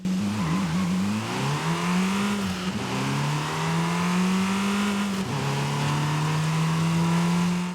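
A loud turbocharged 2-litre inline-4 engine of a Lynk & Co 02 hatchback in Forza Horizon 5 drones steadily, its pitch rising and shifting through gear changes, with a turbo whine over the revving.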